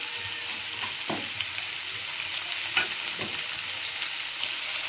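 Vegetables fry in a pan with salt, a constant bright sizzle broken by a few soft scraping stirs, close and steady with no voices.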